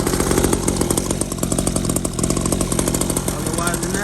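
A new 49cc two-stroke engine fitted to a dirtbike runs loud and close, a buzzing, rapidly pulsing idle with revs rising and falling throughout.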